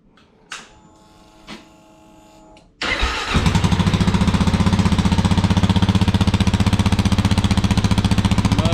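A 2022 Kawasaki KLR 650 fitted with a Leo Vince exhaust and its factory silencer insert starts after a few faint clicks, then settles into a loud, steady, rapidly pulsing idle thump, close to the exhaust.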